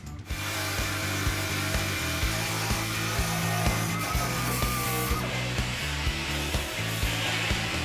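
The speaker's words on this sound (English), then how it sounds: "We're using the crud buster because it doesn't remove any of the actual material or metal from the floor." Crud buster disc on a power tool stripping paint and seam sealer from the floor of a 1972 Camaro split bumper, a continuous loud grinding whir with rhythmic scraping pulses as it works the metal.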